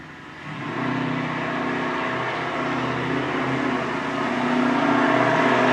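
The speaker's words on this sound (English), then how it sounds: "Damn, the vehicle out there on the road. So loud noise." Loud road vehicle passing outside, a steady engine rumble that swells and holds for several seconds, heard alone without talk.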